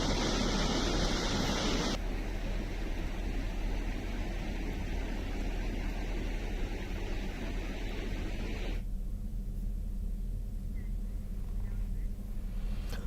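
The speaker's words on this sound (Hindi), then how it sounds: "सिहावा में बालका नदी उफान पर है। इसकी वजह से वहां पर पुल पर नदी का पानी चढ़ चुका है" The flooded Balka river at Sihawa rushes over a bridge in a broad, continuous roar of churning water, loud and unbroken throughout, with the sound character shifting slightly partway through.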